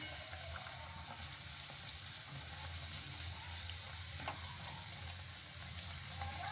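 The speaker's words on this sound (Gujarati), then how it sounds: "ગેસની ફ્લેમ ધીમી રાખીને તળવાના છે, એટલે એકદમ ક્રિસ્પી થાય." Four street-style samosas deep-fry in a pan of oil over a low flame, giving a steady, soft bubbling sizzle that runs quietly and evenly throughout with no talking.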